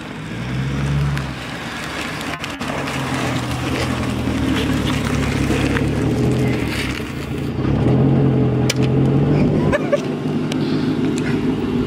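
A modded dually Ford Thunderbird in a video game does a burnout, its engine roaring steadily with rising and falling revs and rough, gritty tire noise, loud and continuous.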